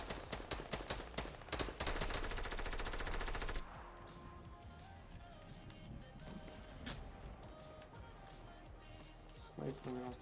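Gunfire in the video game Fortnite, a rapid loud burst of automatic shots and single cracks at first, then quieter scattered shots and game ambience under a player talking.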